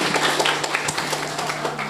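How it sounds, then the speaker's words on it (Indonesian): A short burst of crowd clapping for Mustaifah Pamekasan at a student association inauguration ceremony, many hands patting unevenly at moderate loudness. "Tepuk tangan dulu untuk Mustaifah Pamekasan"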